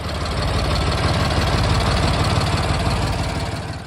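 An International Harvester 454 tractor engine idles steadily and loudly throughout, a dense, even rumble with a faint rhythmic knock and no voices.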